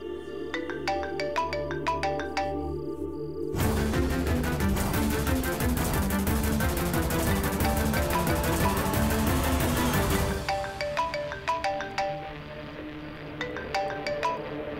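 A mobile phone ringtone plays as a repeating melodic tune that swells into a loud, full musical passage in the middle and then settles back to the simpler chiming loop, close and without talk.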